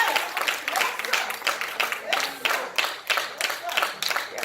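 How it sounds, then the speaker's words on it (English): Church congregation clapping their hands together in rhythmic bursts, a steady pulse of claps from a crowd filling the room with some voices mixed in. "So y'all act like y'all my church and clap your hands"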